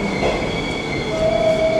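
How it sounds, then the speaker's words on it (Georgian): Metro train pulling into an underground station, a loud steady rumble of wheels on rails with a sustained high squeal rising near the end. "მოვიდა ჩვენი მეტრო."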